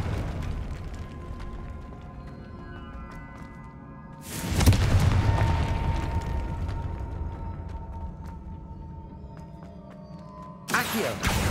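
Confringo spell in Hogwarts Legacy sets off a sudden loud fiery blast that rumbles and fades over several seconds, then a second sharp burst hits near the end, over game ambience.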